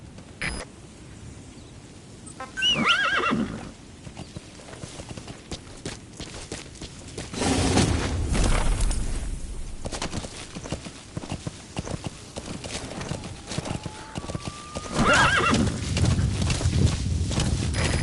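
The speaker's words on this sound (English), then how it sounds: "Planning to walk the whole wilderness on foot? Use your horse." Horse in Metal Gear Solid V on PS4, hooves clip-clopping in steady bursts at close range, sometimes fading and returning, with faint game effects in between.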